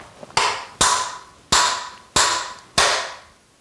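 A TaylorMade SIM driver adapter pressed to the bottom of the bore on a loft machine stand gives five loud, sharp metallic knocks at an uneven, roughly steady pace, each with a short ringing decay.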